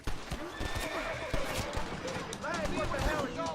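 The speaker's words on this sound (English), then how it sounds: "Steal the deputy's horse" A horse in the Red Dead Redemption video game neighs and whinnies over the clip-clop of hooves, with a few overlapping whinnies at close range above a busy game soundscape.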